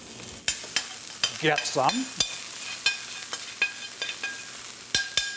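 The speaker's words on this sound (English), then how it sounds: "And we'll saute that off." Chili flakes sautéing in a hot pan, a soft continuous sizzle broken by sharp clicks and scrapes of a utensil stirring, with a short spoken phrase partway through.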